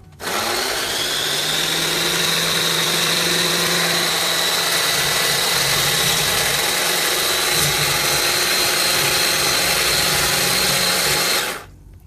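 A Kalorik two-speed hand blender, model CMM 39732 BK, runs at its single lower speed: a steady close motor whine that holds constant for about eleven seconds before cutting off abruptly.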